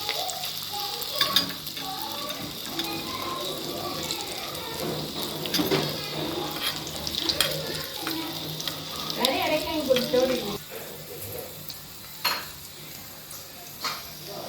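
Mustard seeds and tamarind fry in hot oil for a Kerala-style fish curry, giving a steady close sizzle with scattered pops and occasional stirring clatter of a pan throughout.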